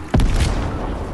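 A cannon in Fortnite fires with a sharp, loud boom that rolls into a low, fading rumble, heard alone and close.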